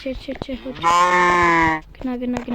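A sheep bleats up close, a few short wavering calls followed by one long drawn-out bleat, then more brief bleats.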